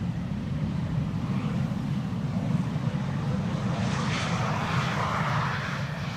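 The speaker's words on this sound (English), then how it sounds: "BA City Flyer arriving from London City has arrived over here" A British Airways CityFlyer jet from London City lands on Schiphol's Polderbaan runway, a steady, loud engine roar with low rumble holding throughout and a brief hiss of reverse thrust near the end.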